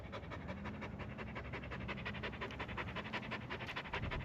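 A dog pants rapidly and steadily up close, quick rhythmic breaths continuing without pause throughout.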